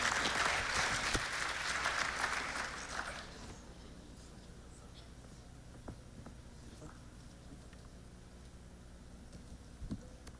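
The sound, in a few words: audience applause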